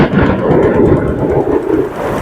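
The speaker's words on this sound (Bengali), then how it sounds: "আকাশের মেঘের গর্জন" Thunder rumbles through a storm with gusting wind and rain, a loud, continuous low roar that fills the whole moment with no talk over it.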